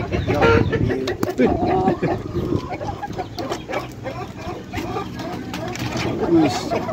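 Chickens at a Bangkok chicken farm, kept in pens under a house, clucking and squawking close by with an occasional crow, over steady barnyard bustle and background voices.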